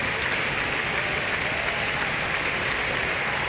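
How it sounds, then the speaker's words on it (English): A baseball stadium crowd claps in unison during an Alabama vs LSU game with the bases loaded, a dense, steady wall of applause that holds at an even level throughout. "This is where you got to jump up to your feet and everybody give it the good clap"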